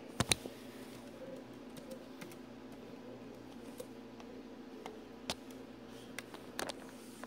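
A wireless password is typed on an HP Pavilion g6 laptop keyboard with faint, sparse key clicks, a few sharper taps spread over a quiet steady hum.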